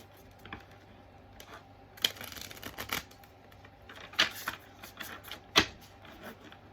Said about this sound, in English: One more shuffle and then we'll split the decks